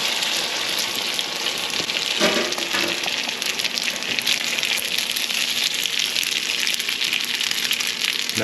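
Leftover spaghetti shaped into a spaghetti pie fries in oil in a pan, giving a steady, dense sizzle and crackle close by that carries on evenly throughout.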